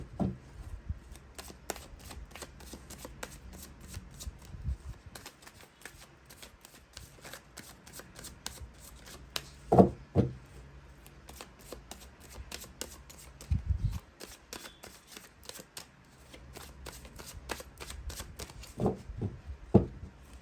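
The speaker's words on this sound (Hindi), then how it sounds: "मैंने कर ली है कार्ड्स की सफलिंग" Tarot cards shuffled by hand for a reading, a long run of soft papery riffles and flutters with occasional louder slaps and taps, close and fairly quiet, no voices.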